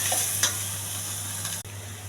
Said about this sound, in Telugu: జీలకర్ర, కరివేపాకు, ఉల్లిపాయలు ఇవన్నీ బాగా దోరగా వేస్తానండి.